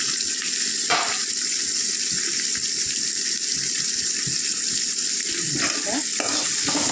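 Ingredients sautéing in a pan, a dense continuous sizzle with intermittent stirring scrapes and clatter, loud and close throughout.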